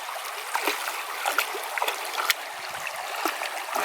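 A cold brook flows steadily with a continuous close wash of water and small splashy gurgles, no talking.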